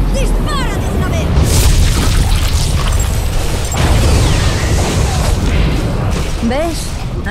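A spore blown apart by gunfire in the shooter Bulletstorm, heavy booming bursts and rumbling blasts layered over loud game noise, with Spanish-speaking characters talking throughout.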